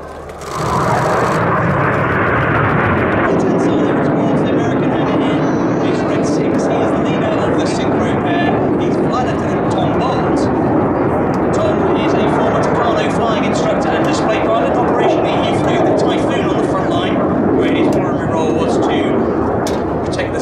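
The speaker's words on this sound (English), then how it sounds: "These four jets now descending to 100 feet." Red Arrows jets at an airshow performing a flying display, four jets descending low; a loud, continuous roaring jet-engine rush sustained throughout, close and powerful, with a commentator's voice faintly beneath.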